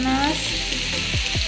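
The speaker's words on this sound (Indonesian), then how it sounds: "Aku masukin tempenya ke dalam minyak panas" Tempeh frying in hot oil gives a steady, loud, dense sizzle close up, with a few scraping stirs breaking through near the end.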